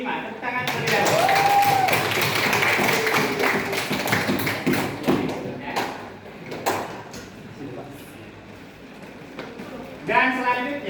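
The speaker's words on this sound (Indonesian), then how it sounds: "Tepuk tangan terlebih dahulu." A school crowd at a high school debate competition claps in a busy, layered burst of applause that carries on for several seconds, with voices mixed in and a few sharper taps standing out.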